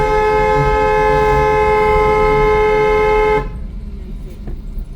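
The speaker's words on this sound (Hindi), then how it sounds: "इन 3 आंटियों को हॉर्न दो, लंबा हॉर्न" A long, loud, steady car horn blast holds for about three seconds over engine and road noise, then cuts off abruptly.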